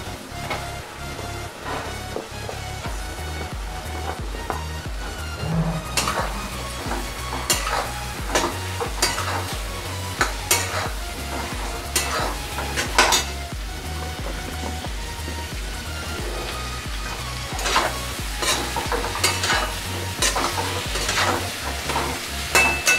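Pointed gourd pieces frying with prawns in spiced oil, steady crackling sizzle close up, punctuated by frequent scraping and clattering stirs against the pan.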